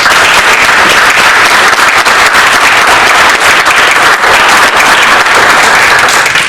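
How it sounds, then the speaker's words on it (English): A forum audience applauds candidates after a school board (BESE) candidates' event, sustained dense clapping filling the room steadily, loud and close, with no speech over it. "Would you please give a round of applause to our candidates?"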